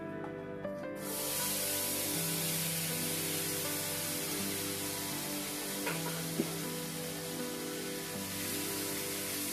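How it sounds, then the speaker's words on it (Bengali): Taro corms sizzle steadily in hot oil with five-spice seasoning, a dense continuous frying hiss after a brief quiet start, with occasional faint stirring scrapes. "ভালোভাবে ভেজে দিব"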